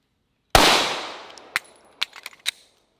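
A Hi-Point 9mm carbine fires at a shooting range, opening with one loud, sharp report that rings out and decays. Several quicker, quieter cracks and clanks follow, each one brief and alone.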